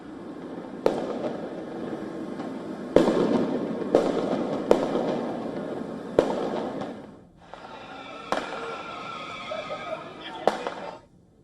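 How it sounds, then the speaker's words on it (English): Flashbangs and firecrackers go off during a street protest in the Los Angeles area, with about a dozen sharp bangs at irregular intervals that sound somewhat distant, mixed with crowd noise and voices. "sounds of flashbangs and firecrackers were witnessed exploding in"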